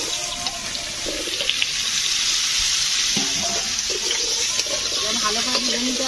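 Bottle gourd and potato fry in a pan of oil and spices, a steady bright sizzle that runs unbroken and close, with faint clinks and stirring beneath.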